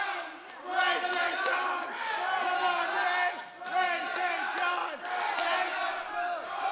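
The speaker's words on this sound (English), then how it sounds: "Chinlock Nation here cheering on their fallen heroes" Wrestling crowd cheers after a match between Nick Sullivan and Ryan Rogan and Karou and Ray St-Jean, a dense wall of roaring, whooping fans swelling in waves with close shouts rising above the din.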